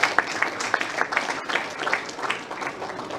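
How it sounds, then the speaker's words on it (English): An audience at the Lagos Architects Forum claps for itself, producing steady applause with individual sharp claps standing out, sustained across the whole stretch. "please give yourself a round of applause"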